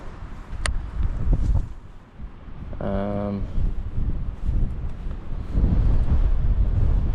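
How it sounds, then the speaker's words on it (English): Loud gusting wind buffeting the microphone with low rumbling roars while winter bass fishing, plus a brief tonal whine in the middle. "And it is so windy."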